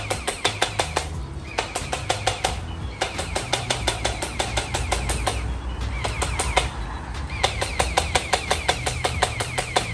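An electric water gun fires in rapid bursts, each a fast train of motor-driven clicks and spurts, repeating with short pauses between them, close and fairly loud.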